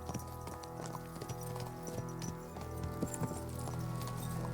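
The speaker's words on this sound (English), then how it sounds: "Wow, look at all those horses." Many horses' hooves clip-clop in steady overlapping rhythms inside Kingdom Come Deliverance 2, with a busy low background of game ambience and no talk.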